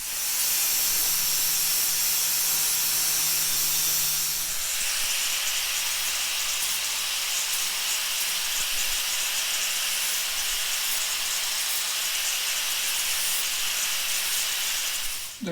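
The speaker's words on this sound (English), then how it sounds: "I'm going to finish weld all of this and we'll try it for real" Metal washer being welded onto a hinge die jig, a loud continuous hiss and crackle that runs steadily throughout with a slight change in tone partway.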